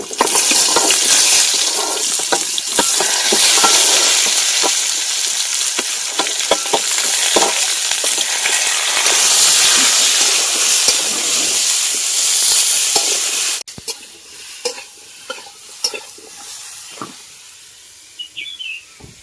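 Potato, pointed gourd and mixed vegetables fry loudly in hot oil for about thirteen seconds. The sizzle then cuts off abruptly, leaving sparse clicks of stirring and faint birdsong in the background.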